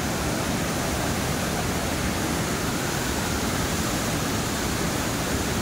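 Water rushes down from the mountains during Typhoon Ferdie, a dense, unbroken roar like a flooding torrent or waterfall, loud and constant throughout with no voices over it.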